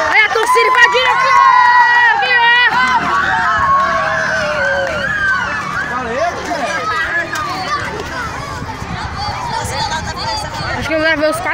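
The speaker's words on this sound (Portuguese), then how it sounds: "Olha a torcida invadindo aqui!" Supporters rush onto a children's football pitch after a goal in a match for 7- and 8-year-olds, a loud, close commotion of excited shouts, children's voices and running that stays busy throughout.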